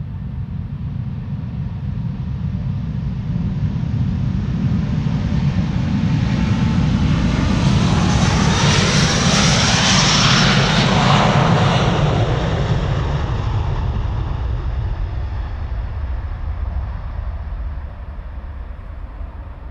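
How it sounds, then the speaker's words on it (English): A Delta airliner takes off from a runway at Amsterdam Schiphol Airport, its jet engines roaring loud and broad as the aircraft passes at its closest near the middle, then the sound slowly recedes. "Delta is actually taking off, probably to Detroit."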